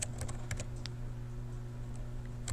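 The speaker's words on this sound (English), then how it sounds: "you can find them, as always, just by typing in the title" Light typing on a computer keyboard, a quick cluster of soft clicks at the start, then a few scattered taps over a low steady room hum, fairly faint.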